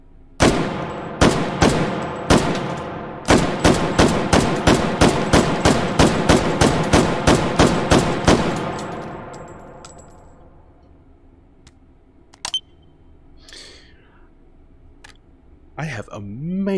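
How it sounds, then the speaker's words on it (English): Gunfire in the VR game H3VR as a target is shot: about a dozen loud, sharp shots in a fairly steady rhythm over several seconds, then a pause with a single later shot and faint clicks. "Okay, now we can go ahead and shoot our target."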